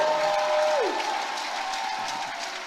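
A church congregation applauds and cheers in a steady wash of clapping that fades slightly as it goes on, with a sustained tone from the sound system sliding downward early on.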